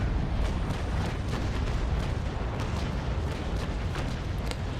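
A sailing warship's cannon broadside in the naval battle game Naval Action, heard as a continuous heavy rumble of overlapping booms with faint distinct thuds rolling through it.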